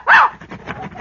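A dog on a radio comedy program gives one loud, close bark and then pants and whimpers softly for the rest of the moment.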